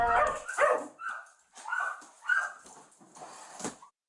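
Dogs in a filthy, foul-smelling house bark and whimper in several close bursts with short gaps between them, loud and alone without talk.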